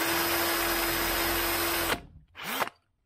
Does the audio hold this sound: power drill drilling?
yes